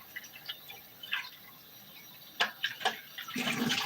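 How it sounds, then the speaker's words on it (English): Water splashing and trickling as a juicer jug is rinsed after making apple juice, faint and intermittent at first, then building to a fuller steady pour near the end; no talking. "I'm just rinsing the jug"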